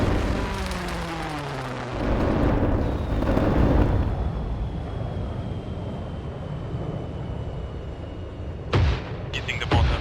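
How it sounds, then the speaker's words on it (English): Mortar rounds in the military shooter Arma 3 land with heavy booming blasts, a loud rumble rolling out early and another sharp explosion near the end. "We were hit by mortars."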